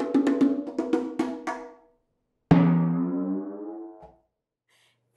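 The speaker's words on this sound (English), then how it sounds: "today I'm going to be playing percussion and timpani, and they sound a little like this" Percussion and timpani: a quick run of bright struck notes that fades out, then after a pause a single resonant timpani-like stroke that rings and decays over about two seconds, with no voices.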